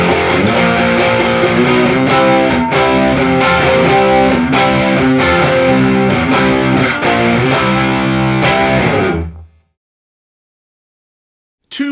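Electric guitar driven through a Nashville Overdrive effect on a Fender Tone Master Pro, loud crunchy chords and rhythmic strums for about nine seconds before stopping abruptly into silence.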